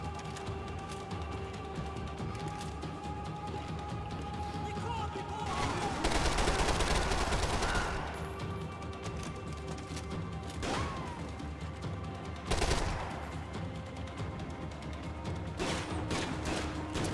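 Gunfire in the Max Payne 3 game, with scattered loud bursts and single shots over a steady background hum, including a dense volley of shots in the middle and another sharp blast later.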